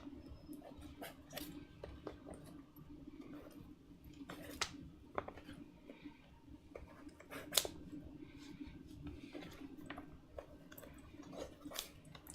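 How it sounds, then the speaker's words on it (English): Scissors snipping through leather while making a leather armor vambrace, with a run of sharp, close clicks and crunchy cuts at irregular intervals over a quiet, steady background. "Scissors."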